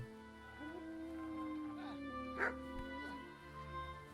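Muffled barks and yips from a dog in the medieval role-playing game Kingdom Come: Deliverance, a couple of short calls and a whimpering tone set against droning background music.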